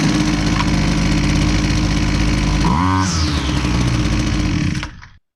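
A Husqvarna 122C strimmer, a small two-stroke engine that had trouble starting after storage, runs steadily close by with a dense, buzzing roar. It dips into a brief rev change around the middle, then cuts off near the end.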